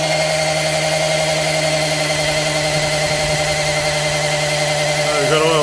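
A power drill spins an oil pump primer in a Holden Monaro engine, giving a steady, loud, unbroken whine with strong tonal hum that holds throughout and shifts slightly in pitch at the very end.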